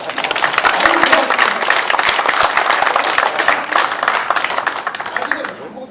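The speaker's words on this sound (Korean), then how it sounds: "박수 한번 칩시다." Sustained applause from an audience at a lecture on Eastern philosophy, dense clapping filling the whole stretch with steady loudness and a murmur of voices underneath, tapering slightly at the end.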